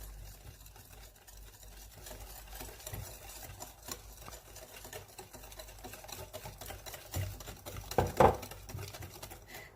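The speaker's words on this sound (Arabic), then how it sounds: "انا هنا غادي نستعمل غير الخلاط اليدوي اللي كيتوفر عند كل شيء" A hand mixer whirs faintly and steadily through cocoa cupcake batter as about 100 ml of vegetable oil is poured in, with soft knocks and rattles in the bowl and a firmer clatter near the end.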